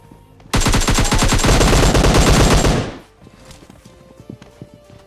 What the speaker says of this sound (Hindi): तभी हमको राइट साइड से फायरिंग की आवाज आती है।